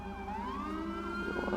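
A police siren from the LSPDFR mod for GTA V wails in rising and falling sweeps, loud and continuous with engine rumble beneath and no talking.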